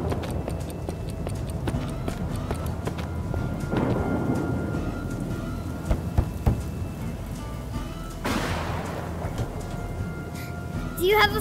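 Steady rain with rumbling thunder in a video game, a constant wash with a louder thunder swell near the end, running under game dialogue and music.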